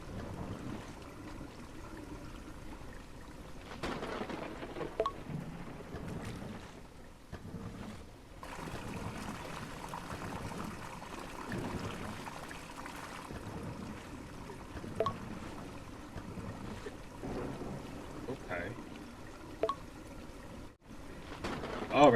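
Water pours and trickles steadily down a roadside storm drain in the video game Drain Simulator, a continuous rushing wash with a few small knocks and brief dropouts.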